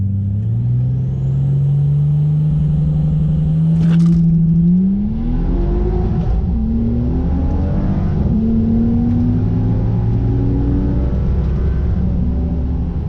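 A turbocharged Ford Falcon drag car launches down the strip, its loud engine climbing through gears with rising pitch and a brief sharp crack, booming close and continuous for about thirteen seconds.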